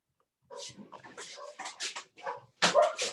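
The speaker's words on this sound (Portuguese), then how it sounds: "Esses cachorros são muito chatos, meu irmão" Several dogs bark and yip close by in quick, uneven bursts, the last volley the loudest.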